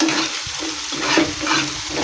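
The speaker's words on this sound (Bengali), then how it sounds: "দিয়ে আমি ভালো করে নাড়াচাড়া করে নিচ্ছি" Poppy seed masala with turmeric water being stirred in a pan over low heat, giving continuous close scraping and shuffling strokes over a steady sizzle.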